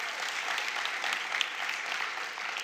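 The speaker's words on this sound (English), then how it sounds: "you can clap for that" A church audience applauds, a thick, even roar of many hands clapping together, sustained and somewhat distant, with no clear voices above it.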